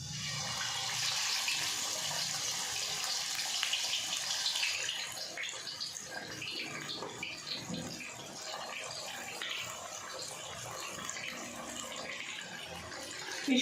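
Fish pieces lowered into hot oil in a kadhai set off a loud, steady sizzle and hiss that is fiercest at first, then settles into continuous bubbling frying throughout.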